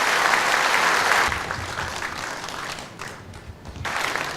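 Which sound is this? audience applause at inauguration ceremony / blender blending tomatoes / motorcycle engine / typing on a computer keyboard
audience applause at inauguration ceremony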